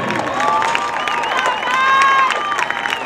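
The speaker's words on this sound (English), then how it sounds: "One more round of applause, ladies and gentlemen, for the Bulldog High School Marching Band." Crowd at a high school marching band competition applauding and cheering for a school band, a dense roar of clapping with shouts and whistles rising mid-way, with voices mixed in.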